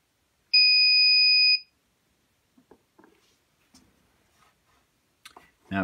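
A single steady electronic beep from an RCBS Charge Master 1500 powder dispenser, loud and clear, lasts about a second, followed by quiet clicks and light handling sounds.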